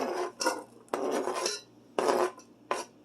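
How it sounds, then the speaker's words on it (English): Food is tipped into a Dutch oven while making a budget chicken parm dinner, giving four short bursts of clattering and scraping against the pot, close and fairly loud with brief pauses between. "we're going to dump this right into the Dutch oven"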